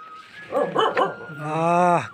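Dog in a village giving a few quick close barks, then a drawn-out high whine, loud and clear with no talk over it.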